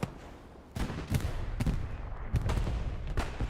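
Tank cannon fire and explosions in a competitive tank video game boom out as about six sharp, heavy blasts spread unevenly across a few seconds, over a low, steady background rumble.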